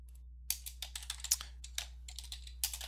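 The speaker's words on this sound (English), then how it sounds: "setup example is what I'm typing in under the lens name" Fingers type on a computer keyboard at a desk, a quick irregular run of crisp key clicks and taps close up over a faint steady electrical hum, with a short pause partway through.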